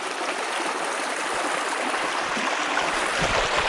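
A creek near Adelaide flows steadily past overgrown banks, a constant close rush and babble of water with no pauses.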